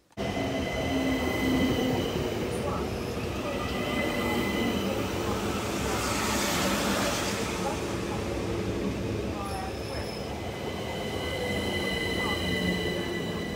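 Steady loud rumble of a moving London train with rattling wheels and faint squeals throughout, heard from inside a carriage.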